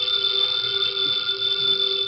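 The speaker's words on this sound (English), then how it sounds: "the ringing of that phone bell means mystery, adventure" A telephone bell rings as a radio drama sound effect, a bright, steady metallic trill held for about two seconds without pause, loud and close, with no voices over it.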